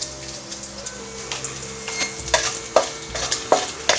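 Pieces of lard sizzle gently in oil over a low flame, a soft continuous crackle with occasional sharper pops and light stirring scrapes.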